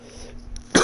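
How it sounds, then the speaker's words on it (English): One short, loud cough bursts out at the very end after a stretch of quiet room noise. "I had a cough."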